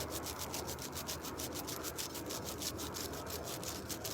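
Dollar store sandpaper rubs back and forth across a rusty table, a close, steady rhythm of rasping strokes repeating about four times a second without pause.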